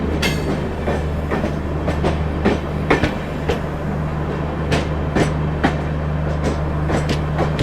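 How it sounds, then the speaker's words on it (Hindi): The Kashi Vishwanath Express, a New Delhi–Banaras train with a new LHB rake of 21 coaches, rolls steadily on the rails, its wheels clicking in a regular rhythm over a constant low rumble, with no voices. "नई दिल्ली बनारस काशी विश्वनाथ एक्सप्रेस।"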